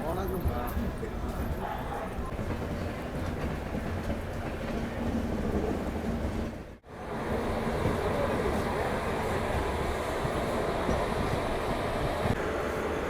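The Kacheguda to Madurai Weekly SF Express pulls out of Kacheguda station in Hyderabad with a steady, loud rumble and rattle heard from inside the coach, broken by a brief dip midway, with a voice at times.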